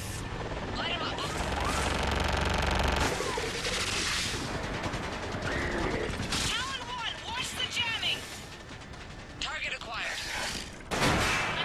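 Air support strike hitting ground targets in Mass Effect, with sustained gunfire, rapid bursts and crashing impacts rolling on for several seconds beneath spoken radio chatter.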